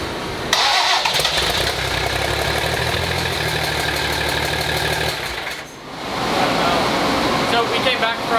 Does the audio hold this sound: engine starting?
yes